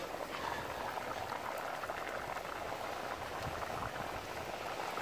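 A pot of rice boiling on the stove, a dense steady bubbling and popping hiss that stays even and fairly faint from start to finish, with no one speaking.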